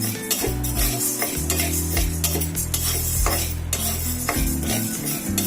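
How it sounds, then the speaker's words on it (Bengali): Urad dal dry-roasts in a pan over a low-to-medium flame. The lentils give a gritty, rattling rustle as they are stirred continuously, with scraping and clinking against the pan and a low background hum. "আমি লো টু মিডিয়াম ফ্লেমে ডালটা 3 মিনিটের মতো ভাজছি।"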